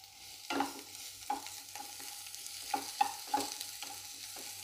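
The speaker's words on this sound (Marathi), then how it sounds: "त्याच्यात हा कट केलेला कांदा परतून घ्यायचा आहे." Chopped onion frying in a tablespoon of oil in a pan, a steady soft sizzle broken by several scraping stirs of a spatula, close and fairly quiet, with no talking.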